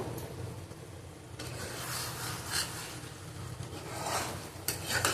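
A spoon stirs okra and potatoes with shrimp in a pan, soft scraping and clinking against the metal over a low background sizzle, with occasional louder scrapes.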